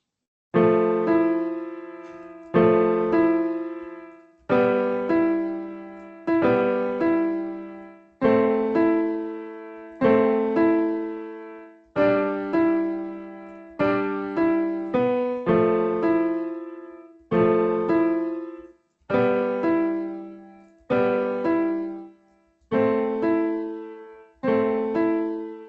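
A simple keyboard melody played through Bandlab musical typing, a steady sequence of sustained tonal notes struck one after another in a slow, even rhythm, each decaying before the next, with no voices.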